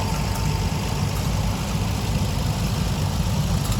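A 550 diesel utility tractor at a classic tractor show idles nearby with a steady low rumbling throb that holds even and unbroken throughout.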